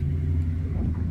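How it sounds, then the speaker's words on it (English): A UPS delivery truck drives past with a steady, low engine rumble that holds constant the whole time, fairly close, with no voices over it. "UPS truck driver going by"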